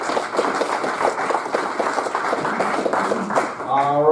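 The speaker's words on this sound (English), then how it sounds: "let's give him a round of applause" An audience at a tech meetup on robots and drones claps in a steady round of applause with dense, even hand claps lasting a few seconds, then a voice starts speaking as it ends.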